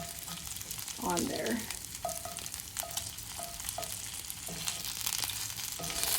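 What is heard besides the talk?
porterhouse steaks frying in a pan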